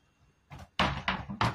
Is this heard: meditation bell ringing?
no